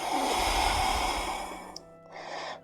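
A long, steady exhale during a gentle yoga flow, breathy and close, followed by a softer breath after a brief pause, with no speech.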